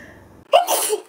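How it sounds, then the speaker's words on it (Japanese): A single sharp sneeze erupts after a quiet moment and trails off into a breathy exhale, close to the microphone, from someone suffering hay fever. "くしゃみが止まらない"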